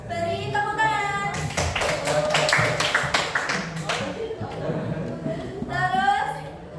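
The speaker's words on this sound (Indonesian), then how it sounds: "Beri tepuk tangan." A classroom of students claps together for a classmate named Rizky during a lesson on posters, a dense burst of many hands lasting a few seconds, with a teacher talking before and after.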